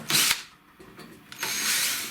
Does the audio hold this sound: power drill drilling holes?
yes